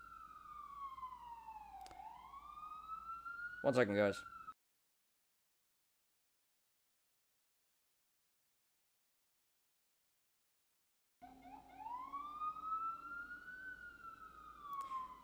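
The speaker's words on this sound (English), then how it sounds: "there goes the siren." An emergency vehicle siren wails outside, sweeping up and down in pitch, then cuts out in a long silent gap before returning for several more seconds; a person speaks briefly over it.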